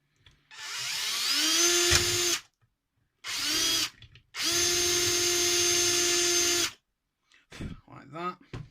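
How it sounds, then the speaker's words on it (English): Power drill boring a small hole for bathroom extractor fan wiring, three bursts of high whining drilling separated by short pauses, close and loud, with brief talk afterward. "So I'm just going to drill that little hole."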